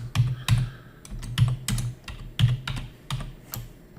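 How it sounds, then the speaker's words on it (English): Typing on a computer keyboard, with irregular bursts of close, crisp key clicks in quick clusters and short pauses between them, with no talking. "And I'm going to just type our text."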